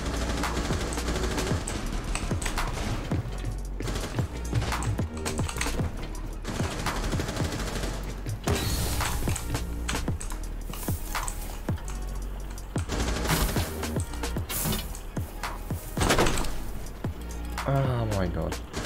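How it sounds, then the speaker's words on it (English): Rapid hip-fire gunfire in Rainbow Six Siege, Legacy mode, dense bursts of sharp automatic shots and impacts packed close together over a continuous game mix. "what's this hip fire?"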